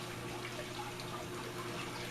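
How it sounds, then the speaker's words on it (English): Cold water runs steadily into a sink as a fish is rinsed off, a faint continuous splashing wash at moderate distance with no talking. "what we're going to do now is rinse this fish off in some cold water"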